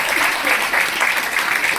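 An audience claps loudly and continuously for Mahipal Guru at a business gathering, a dense, even wash of applause with no pauses.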